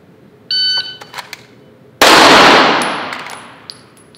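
Electronic shot-timer beep, then a single sharp, loud pistol shot at a steel target during a timed drill, followed by a decaying crack and a brief high metallic ring from the steel.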